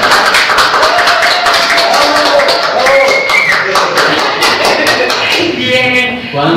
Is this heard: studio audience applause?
yes